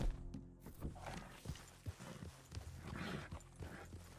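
Horse hooves clip-clop at a walking pace in the video game Red Dead Redemption 2, soft and fairly faint, in an uneven rhythm of separate thuds.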